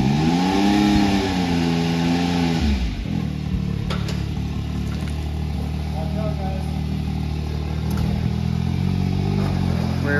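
A 2022 Can-Am Maverick X3 XRS side-by-side revs up through its gears, its engine note rising and falling loudly before settling into a lower rumble with faint clatter and brief clicks.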